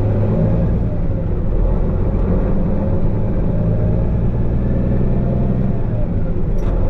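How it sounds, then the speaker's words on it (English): A dump truck heading down to a pond being dredged rumbles steadily and loudly from inside the cab, its engine droning at an even pace with a faint rattle near the end. "We're heading down in the dump truck, gonna go move some of that silt."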